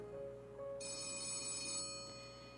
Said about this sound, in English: The office phone is ringing.